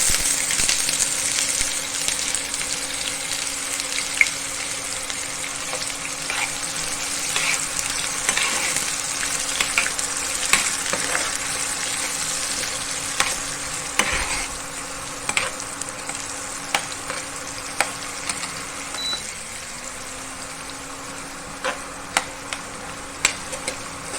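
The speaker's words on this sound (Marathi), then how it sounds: "आता आपलं तेल तापलं आहे तर या तेलामध्ये आपण जिरे आणि तमालपत्र भाजून घेऊ" Cumin seeds and bay leaves fry in hot oil in a pan, a continuous close sizzle and crackle with scattered sharp pops and occasional scraping stirs, no talking.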